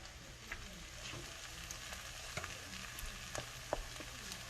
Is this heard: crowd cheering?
no